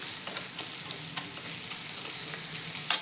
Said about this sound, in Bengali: আমার পেঁয়াজটা দিয়ে আদা রসুন দিয়ে ভাজা হয়ে গেল, এটা কষা হয়ে গেল প্রায়